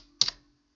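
A single quick keystroke on a computer keyboard, a short close click with a slight rattle, then quiet.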